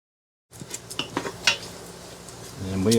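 Metal utensil scraping and clinking in a Ninja Foodi metal pan while beef is browned, a few sharp taps followed by a rising sizzle toward the end.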